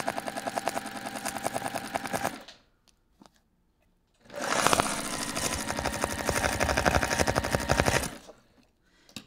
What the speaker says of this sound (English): I'm just sewing 1/4 inch